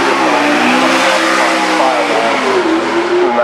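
A McLaren's twin-turbo 3.8-litre engine revs hard and loud, a sustained roaring drone with the pitch shifting as it pulls, very close.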